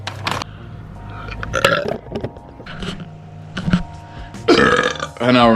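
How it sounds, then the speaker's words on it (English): A man lets out several loud burps in an uneven run, with short pauses and background noise between them, and a longer, drawn-out belch near the end. "I can't stop burping."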